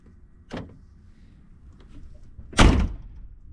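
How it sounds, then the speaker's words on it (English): A door on a 1988 Ford Ranger pickup swings shut with one loud, solid thunk, preceded by a softer knock and some faint handling noise in a quiet cab. "close that door"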